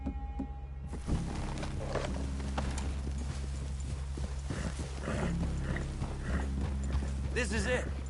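Horses walk slowly in a video game, their hooves clip-clopping in an uneven rhythm at close range while a voice talks over them.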